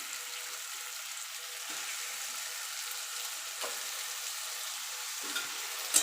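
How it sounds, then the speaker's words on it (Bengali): Washed chicken meat goes into hot masala that has been fried down until the oil separates, giving a steady soft sizzle with a few faint stirring clinks, close and alone with no talking. "এবার দিয়ে দেবো মাংসটা যে মাংসটা ধুয়ে রেখেছিলাম"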